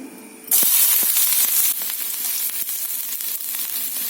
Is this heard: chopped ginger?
yes